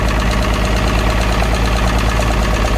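A Farmall tractor with a 282 engine runs loud and close, its steady idle chugging with an uneven, misfiring beat and knocking throughout.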